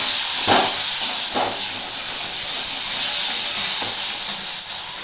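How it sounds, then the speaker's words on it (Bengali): Onion and a small tomato frying in a pan for a home prawn and snake gourd curry, a loud steady sizzle and hiss with a few sharper spits of spattering oil, no voices. "দেখো বন্ধুরা, পেঁয়াজটা একটু ভালো ভাজা হয়েছে। এবার আমি যেটা করবো, এর মধ্যে একটু একটা ছোট টমেটো আমি এর মধ্যে দিয়ে দিলাম।"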